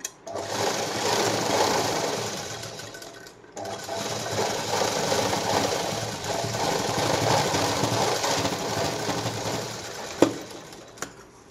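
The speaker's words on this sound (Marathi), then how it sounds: "आणि इकडच्या बाजूने परत एक शिलाई मारा." An electric sewing machine stitches saree fabric in a loud, close, rapid mechanical whir that runs in long bursts with a short pause early on, ending in a couple of clicks.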